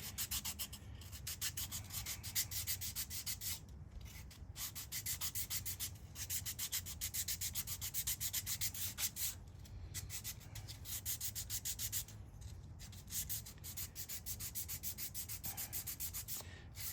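Rhythmic back-and-forth scraping of a radius sanding block on wood, steady strokes continuing for the whole stretch with brief pauses, close and alone.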